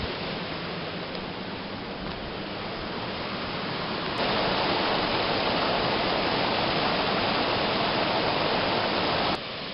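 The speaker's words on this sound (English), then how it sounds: "Looks like the water comes right out of the side of that bluff." Spring water gushes out of a bluff at Siewer's Springs Falls, a steady, broad rushing roar that grows louder partway through and continues without pause.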